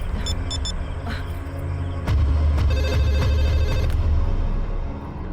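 A telephone bell rings in repeated bursts in a Bhojpuri family drama, its electronic trill repeating over a steady low background hum, loud and close with no talk.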